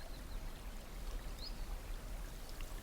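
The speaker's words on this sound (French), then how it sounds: "Un petit peu de grave sur le ruisseau." A forest stream flows in a steady, soft wash of running water with a faint low rumble underneath. A brief higher trickle or drip stands out once near the middle, and no one speaks.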